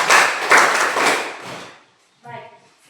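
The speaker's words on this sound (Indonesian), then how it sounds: "Tepuk tangan dulu." A classroom of students claps for a group that has just presented, a dense burst of applause lasting over a second before fading out, followed by a teacher's voice.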